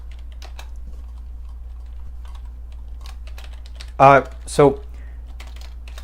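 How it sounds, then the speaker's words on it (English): Someone types on a computer keyboard while coding an Android app, producing soft, quick clicks over a constant low hum. Someone speaks briefly near the end. "oh, my typing is terrible today"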